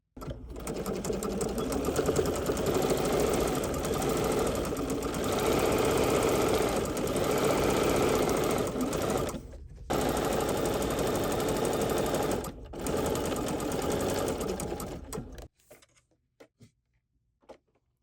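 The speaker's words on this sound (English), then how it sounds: "I want to go to my sewing machine and stitch the top piece down so it doesn't unravel" A serger runs steadily at close range sewing a wide two-thread wrap stitch, a dense mechanical whir with two brief pauses, then stops near the end, leaving near silence.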